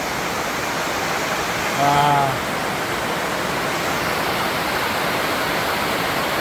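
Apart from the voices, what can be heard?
floodwater rushing back up through drainage after heavy rain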